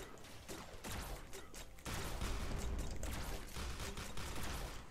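Sustained gunfire in G.I. Joe: Operation Blackout co-op play, steady rattling bursts that grow louder after a brief lull, with no talk over them.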